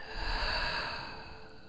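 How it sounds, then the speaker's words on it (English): A long, breathy exhale through an open mouth during a gentle yoga session, close and soft, rising then slowly fading away. "open mouth, exhale, release any heat out"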